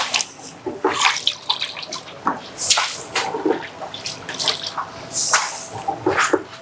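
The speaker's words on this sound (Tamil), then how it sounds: "லெமன் சாறு." Lemon juice is poured into a large pot for a big beef biryani, giving irregular splashing, dripping and trickling sounds close by, with no talking.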